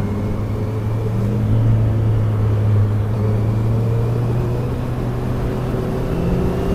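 Motorcycle engine idling along at low throttle on a road, a steady low rumble with a sustained hum that holds even and continuous throughout, no revving or acceleration.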